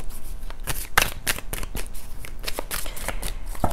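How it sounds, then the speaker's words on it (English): A deck of reading cards is given a vigorous shuffle, a close run of crisp riffling and slapping bursts that repeats without pause. "I like to give them a really good shuffle."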